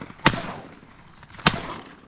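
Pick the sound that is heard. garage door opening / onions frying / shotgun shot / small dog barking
shotgun shot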